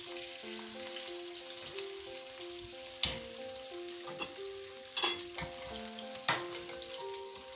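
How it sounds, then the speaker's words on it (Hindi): Shrimp fry in a pan for shrimp biryani, a continuous crackling sizzle punctuated by a few sharp stirring clacks, with soft melodic music playing underneath. "श्रिम्प को निकाल लिया था मैंने फ्राई करके"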